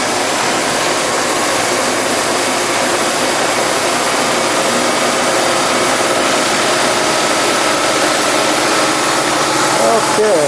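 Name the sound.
machining tool running on a mill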